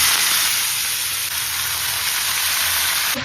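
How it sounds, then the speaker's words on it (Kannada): Fenugreek leaves sauté in hot oil with curry leaves, chana dal and urad dal in a pan, giving a loud, steady, close sizzle with an even hiss throughout and no talking. "ಇವಾಗ ಈ ಸೊಪ್ಪನ್ನ ಎಣ್ಣೆನಲ್ಲಿ ಒಂದು ಸ್ವಲ್ಪ ಹೊತ್ತು ಬಾಡಿಸ್ಕೊಳ್ಳಿ"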